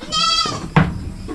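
Goats bleat in a Filipino farm pen: a long wavering nasal bleat dominates the first half, followed by a sharp closer cry and a fainter bleat near the end.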